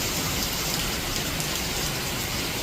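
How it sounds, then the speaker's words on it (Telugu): Heavy rain pours down in a dense, steady hiss that fills the whole stretch, close and continuous, with no voices heard. "చాలా ఘోరంగా అంటే ఘోరంగా పడుతుంది వర్షం చూడండి"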